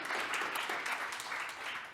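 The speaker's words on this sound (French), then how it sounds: "Gabriel Tessier, merci. On peut l'applaudir encore." An audience applauds speaker Gabriel Tessier after his conference talk on insider threat management with M365; dense, steady clapping from many hands fills the room for the whole stretch.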